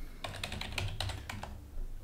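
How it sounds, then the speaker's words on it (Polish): Rapid keystrokes on a computer keyboard while entering data by hand into a password manager, a quick run of light, close clicks heard alone. "wpisujemy jakieś dane ręcznie"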